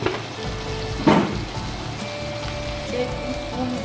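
Qeema (minced meat) fries in a pan for a Pakistani dish, making a steady close sizzle with a sudden louder burst of crackle early on, as if stirred, before settling back to an even hiss.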